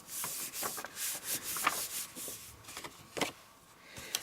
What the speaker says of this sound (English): Pop it on the block and just rub your hand over it.